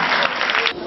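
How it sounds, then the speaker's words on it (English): Brief burst of steady clapping from an audience at a spelling bee, dense and fairly loud, cut off after under a second. "A round of applause for her."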